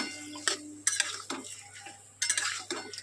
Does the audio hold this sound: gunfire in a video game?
no